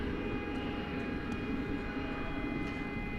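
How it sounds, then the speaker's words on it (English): A Qantas jet airliner taxis away at DFW Airport at night, giving off a steady, moderately distant engine roar with a constant whine. No talk is heard over it. "So slowly, the Qantas flight is moving off."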